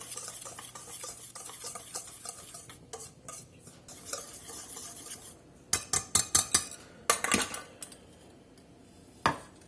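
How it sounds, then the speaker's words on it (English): A utensil stirs flour and salt together in a bowl, soft scraping with sharper clinks and knocks against the bowl toward the end, close and fairly quiet. "we're going to get these two dry ingredients mixed together here pretty good"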